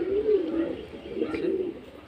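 Several pigeons in a loft give soft, rolling coos close by, two or three drawn-out phrases rising and fading over a quiet background.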